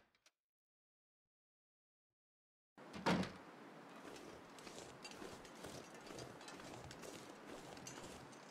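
A door opens in The Long Dark after near silence, a sudden creaking thud followed by a continuous windy outdoor rush that persists to the end.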